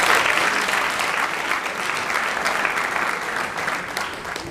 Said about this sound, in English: but give them a round of applause anyway